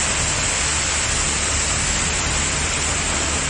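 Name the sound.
heavy rain pouring in Hosur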